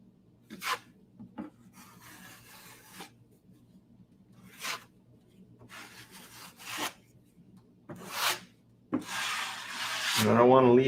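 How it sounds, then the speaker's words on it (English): A drywall knife scrapes excess joint compound off a wall in several short, rough swipes separated by quiet gaps, close by, ending in a louder, sustained rubbing rasp. "I'm putting it on there, but then I'm scraping off all the extra"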